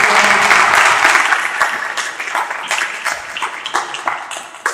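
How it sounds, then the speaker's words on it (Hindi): Sunday prayer meeting congregation giving loud applause after a preached word, a dense burst of clapping that thins into scattered, uneven claps as it fades. "इस कलाम के लिए जोरदार ताली।"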